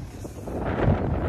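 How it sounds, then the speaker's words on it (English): Wind buffets the microphone in a low, rumbling rush, loud and close, with no voices. "I don't know if you can hear it, but it is windy."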